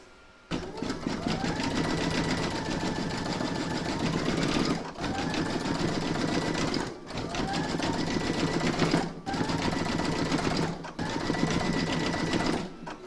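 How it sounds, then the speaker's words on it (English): An embroidery sewing machine stitches a tack-down round on puffy foam, a fast steady mechanical whir in four long bursts separated by brief pauses, close and alone. "you're going to stitch round number 5, and that's going to do the tack down for the foam"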